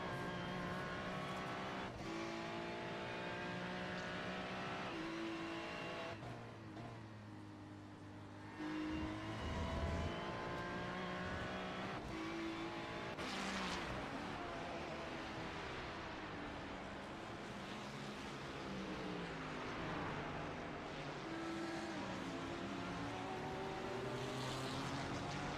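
Ferrari GT3 race car engine in a sim racing game, a continuous high-revving wail rising and falling through gear changes over a long stretch, with a brief dip in intensity midway.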